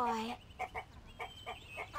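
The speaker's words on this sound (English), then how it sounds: "Come on, let's look at the chickens first." Chickens in the Barbie Race & Ride video game cluck in short, evenly spaced bursts, about five quick calls over a soft background, following a brief voice at the very start.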